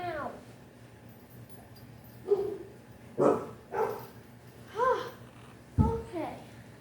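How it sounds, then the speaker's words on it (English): Dogs in a home bark in several sharp, separate bursts spaced about a second apart, fairly close, with a person talking softly in between. "Sorry, my dogs are barking."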